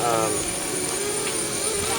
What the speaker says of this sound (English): Juliet is going to fly the drone with the payload, and I'm going to fly a support drone